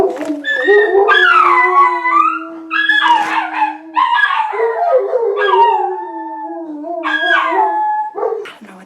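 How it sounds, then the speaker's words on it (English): Pet dog howling indoors, a loud, close series of long wavering howls rising and falling with short yips between them, with no talking. "It's my dog howling."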